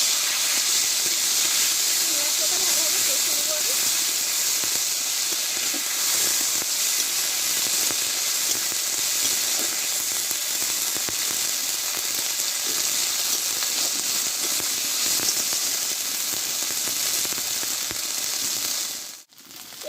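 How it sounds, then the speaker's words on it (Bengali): Ground spice paste with turmeric hits hot oil in a pan, giving a loud, dense, continuous hissing sizzle that holds steady for the whole stretch before dipping abruptly at the end, close up with no talking. "এবার এইখানে আমি মশলাটা বাটা মশলাটা আমি দিয়ে দিলাম"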